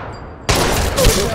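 Gunfire in Apex Legends Mobile: after a quiet moment, a sudden loud burst of rapid shots erupts and keeps rattling close by.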